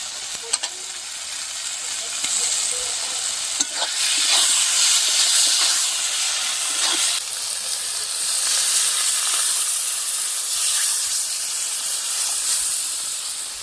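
Fresh pond fish, shing, dropped into hot oil and spice paste for a poppy-seed fish curry, giving a loud, sustained hissing sizzle with a few sharp pops and crackles early on.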